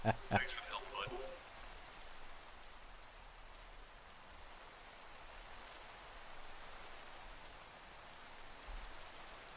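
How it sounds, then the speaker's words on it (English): Rain falling in the Minecraft video game, a soft, steady hiss that runs throughout at low volume after a brief burst of other sounds at the very start. "Cue the rain."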